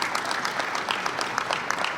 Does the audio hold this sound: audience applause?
yes